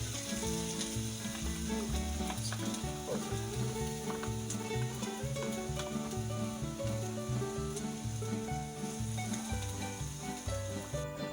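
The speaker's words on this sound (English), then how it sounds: "We start frying the onion in hot oil." Steady sizzling of onion frying in hot oil, continuous and close, with faint clinks and scraping mixed in.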